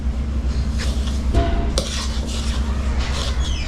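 Flour, sugar, baking powder and salt are whisked together in a bowl for buttermilk drop biscuits, a close, continuous scraping and clinking of the whisk against the bowl with a few sharper metallic knocks.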